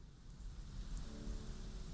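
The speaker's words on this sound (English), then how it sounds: "See, it does rain, so all of this is going to get soaking wet." Rain falling in the video game Prehistoric Kingdom, a steady, dense hiss of drops that fills the two seconds evenly, with no voices over it.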